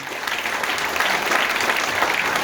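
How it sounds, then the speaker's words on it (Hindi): An audience at a feedback program bursts into loud, dense applause that holds steady and close for the whole stretch, without any clear speech. "एक बार जोरदार ताली बजाइए"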